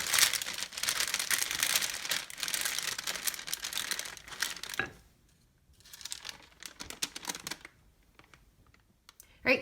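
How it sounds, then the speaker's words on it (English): Tortilla dough for vegan keto meal prep being rolled out by hand, with busy crinkling and rubbing noises close up that stop abruptly partway, followed by quieter intermittent scuffs and a final sharp tap. "We're going to roll this out, and then we're going to cut out our tortillas."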